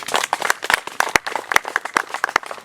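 An audience at a public gathering claps, a loose scatter of sharp individual handclaps close by that overlap unevenly for a few seconds.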